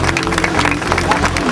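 Audience applause honouring the memory of Reverend Lucius Walker at a Pastors for Peace gathering, a dense, steady wash of many hands clapping throughout, with a faint voice mixed in.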